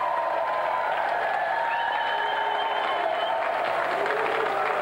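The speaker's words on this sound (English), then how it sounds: "Round of applause for Jamie." Steady applause from a crowd, broad and sustained for several seconds with a faint tone threading through the clapping.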